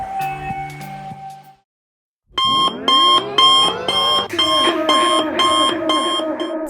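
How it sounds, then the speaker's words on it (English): A bedroom alarm clock goes off at 5 a.m. in an ensuite setting, loud repeating electronic beeps in a rising pulsed pattern that follow a short stretch of other sound and a brief silence. "I've come into the ensuite to turn off my alarm"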